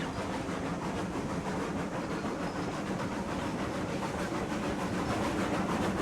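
A train in the Railroads Online video game chugs along with a steady rhythmic clatter and hiss, loud and continuous for the whole stretch with no voices.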